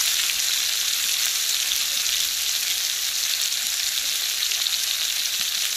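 Tomatoes and salt hit a hot pan and fry with a steady, loud sizzle that holds evenly throughout with no voices.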